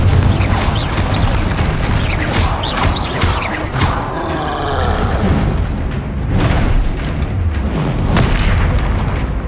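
A Confringo spell blasts in Hogwarts Legacy during a troll fight, loud booming bursts that thud repeatedly over dense game noise and effects, with a short quieter swirl midway before more impacts.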